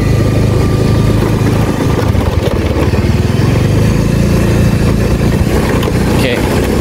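A motorcycle rides over a rocky road, its engine running steadily and close as the bike jolts across the uneven stones.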